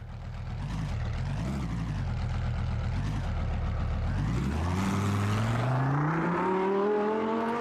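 Audi race car in an AMS2 replay, its engine droning steadily and loudly with a buzzy, two-stroke-like rasp, then rising in pitch as it accelerates through the later seconds.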